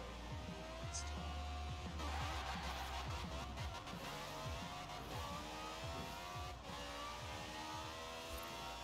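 Donkervoort D8 GTO in Forza Horizon 4 accelerating hard down a festival drag strip, engine revving up through repeated gear changes, steady and close, with faint talk underneath.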